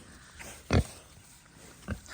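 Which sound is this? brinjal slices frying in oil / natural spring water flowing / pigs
pigs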